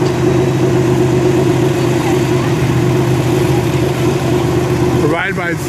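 Five fire trucks rolling past in a row in Norman Township, a loud, steady engine drone close by, with a brief rising siren-like whine near the end.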